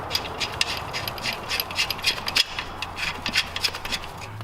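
A fitting screwed by hand onto a Miata 1.8 engine during an engine swap, giving close, uneven rubbing and light ratcheting scrapes in short bursts, with no talking.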